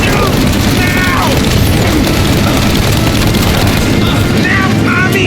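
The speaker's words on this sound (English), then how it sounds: "Shoot up your gun when there's a break in the fire!" Dense gunfire and booming blasts in the Mafia: Definitive Edition video game, a constant loud roar of shots and crashes with shouted voices mixed in.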